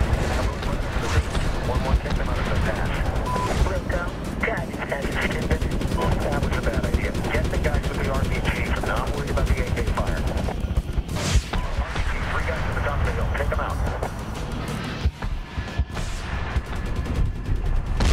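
Dense, continuous gunfire and explosions fill a Medal of Honor game battle, loud and layered throughout with machine-gun bursts and heavy impacts. Voices talk under the fighting.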